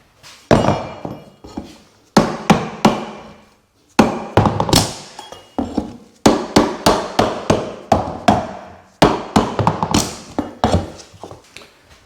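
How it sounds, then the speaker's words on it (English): Hammering and prying up old carpet tack strips from a floor ahead of a laminate install: loud, close, sharp blows and clattering thunks in irregular clusters, with brief gaps between bursts. "we need to go ahead and get this carpet tack pulled up so that that's out of our way"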